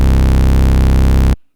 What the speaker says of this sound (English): and a dry bass sound